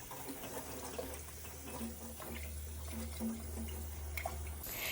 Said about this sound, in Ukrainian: Перед консервуванням банки завжди мию харчовою содою і добре їх виполікую.